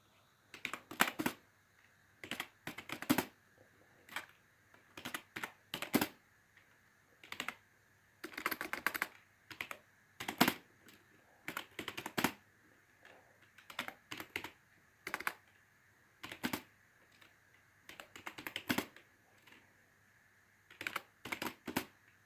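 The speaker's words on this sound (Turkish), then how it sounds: "Denedik klavyemizi." Someone types on a computer keyboard during a typing test, fast bursts of clicking keys broken by short pauses, close and clear with no talk.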